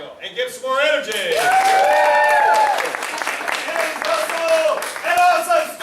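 An audience claps loudly through a belt ceremony at a family martial arts school, sustained and dense. Excited voices and cheering mix in with the clapping.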